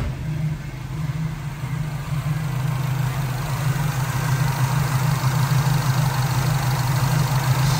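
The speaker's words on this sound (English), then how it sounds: "Let's give a look at the engine while the car is running." A 1969 Chevrolet Camaro with a freshly built 350 V8 idling steadily, a smooth low rumble that holds constant and grows slightly louder over several seconds, with no talking.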